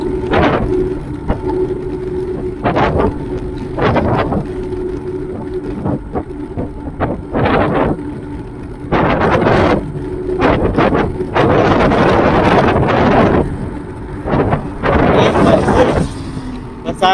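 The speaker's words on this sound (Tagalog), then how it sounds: "kung maririnig mo ang lakas ng hangin" Strong wind buffets the microphone during a night ride in a steady roar that surges into louder gusts, with a voice occasionally heard beneath it.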